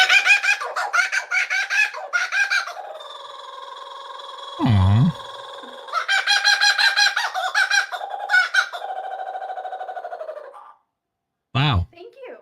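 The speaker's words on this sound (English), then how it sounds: "he is a kookaburra" A kookaburra calls up close in a studio, letting out loud, rapid, chattering laugh-like bursts that start and stop repeatedly. People react briefly between the calls.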